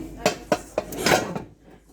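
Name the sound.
saucepan and pans being handled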